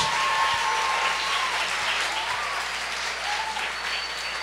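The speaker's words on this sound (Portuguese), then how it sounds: "Vamos dar um aplauso para os pais?" Steady, dense applause from an audience honouring the parents, a continuous wash of clapping that holds at an even level throughout.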